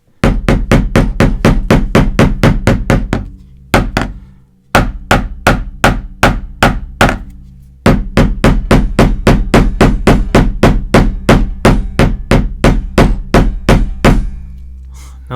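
A screwdriver repeatedly strikes a glass screen protector on a Nintendo Switch, loud close taps in rapid, regular bursts with a couple of brief pauses between runs of hits.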